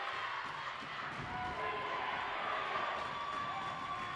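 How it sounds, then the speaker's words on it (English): Crowd at a NJISAA prep volleyball championship between Mount St. Mary and MKA in a gym, cheering and shouting steadily and loudly throughout, with some voices rising above the din. "You can hear the crowd of Mount St. Mary."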